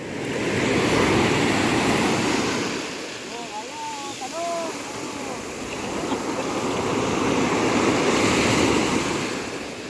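Ocean waves wash steadily onto Karokwan Beach in Cagayan Valley, a broad continuous roar of surf with wind buffeting the microphone, swelling and easing slightly over the stretch.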